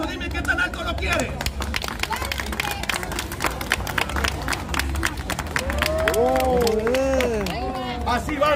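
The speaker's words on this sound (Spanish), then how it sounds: "A ver, con un aplauso, dime qué tan alto lo quieres." A live crowd at a clown show claps in a dense, uneven burst that runs throughout, mixed with crowd murmur and a performer's voice talking over it.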